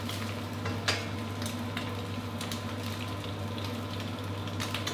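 Eggs frying in oil in a pan while cooking stir-fried noodles with fresh shrimp, a faint, steady sizzle with light crackles and a low background hum, no voices.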